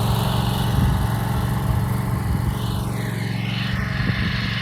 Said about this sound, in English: He can surely run a mower.